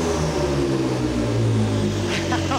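A Ford F150 EcoBoost V6 truck engine runs loud and close with a deep, steady rumble, while voices talk over it.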